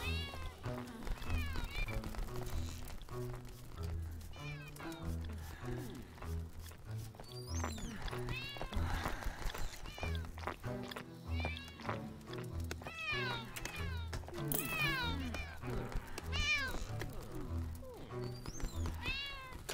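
Stray cats meowing in the tavern-management game Crossroads Inn, repeated rising and falling meows and caterwauls, close and prominent, over a steady musical bed with some voice underneath.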